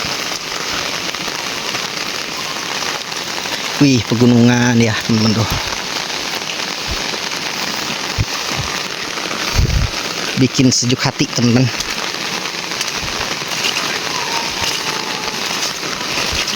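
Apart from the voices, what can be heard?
heavy rain over village rice fields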